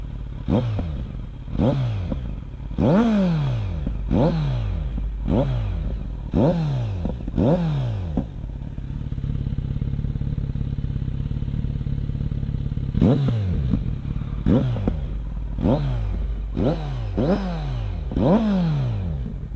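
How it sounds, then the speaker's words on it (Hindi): Kawasaki Z900 motorcycle fitted with an aftermarket replica exhaust, revved repeatedly in sharp bursts that fall back to a throbbing idle, with a quieter idling stretch midway before another run of loud blips. "और इसका एग्जॉस्ट नोट आप लोगों के लिए।"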